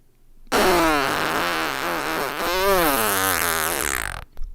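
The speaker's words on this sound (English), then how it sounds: "Doo-doo fart, as always." A fart sound effect: one long, loud, wavering raspberry with a buzzy, shifting pitch that lasts nearly four seconds, heard alone and ending abruptly.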